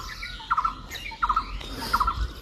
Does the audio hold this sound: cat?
no